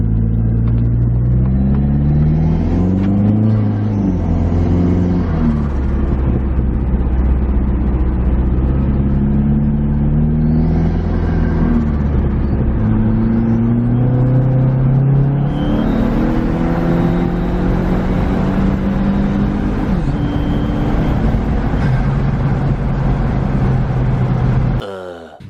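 Boosted PT GT car engine revving and pulling through gears while driving, loud and close, with rising and falling pitch sweeps and a brief lift-off partway through, low on fuel and leaking boost.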